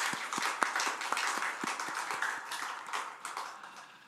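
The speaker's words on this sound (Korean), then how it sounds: "우리 이 시간 교회로 시작되게 하신 주님께 우리 박수 한번 영광입니다." Church congregation applauding during a prayer service, a steady wash of many hands clapping with a few sharper nearby claps standing out, moderately loud and slowly tapering over about four seconds.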